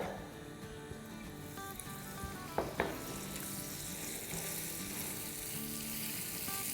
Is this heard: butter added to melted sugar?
yes